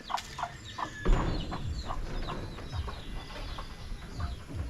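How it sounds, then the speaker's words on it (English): Chickens cluck and squawk in short bursts around a goat farm in Cebu, Philippines, moderately near, with faint background noise and no talking. "Nice chickens too"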